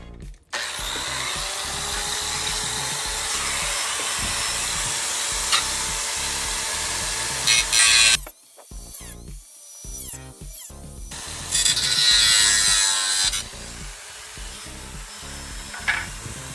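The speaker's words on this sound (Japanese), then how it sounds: "グラインダーでカットします。" An angle grinder cuts a protruding piece on a junk speaker being restored, a loud sustained harsh whine for several seconds, then a quiet gap, then another shorter grinding burst, close and without talk.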